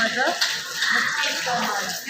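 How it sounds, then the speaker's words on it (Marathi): Water runs and splashes steadily as plates are washed at the stone Vitthal Rukmini temple in Dehu, Pune, a close continuous flow with voices in the background. "प्लेट धुणं चालू आहे"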